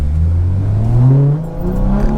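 A BMW 340i accelerates from inside the cabin, a loud engine drone rising steadily in pitch through a gear before dipping briefly and climbing again.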